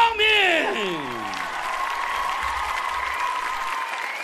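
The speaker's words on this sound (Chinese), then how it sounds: "掌声送给杨明。" Applause from an arena crowd for a fighter being introduced at a Wu Lin Feng kickboxing event, steady clapping that follows a rising tone, with an announcer speaking over it.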